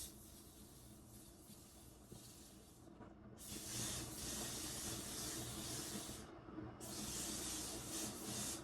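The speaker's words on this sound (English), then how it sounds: "So I'm going to take this Flexin Hairspray." A hairspray can hisses in two long sprays, bright and close, separated by a short pause, with quieter rustling before them.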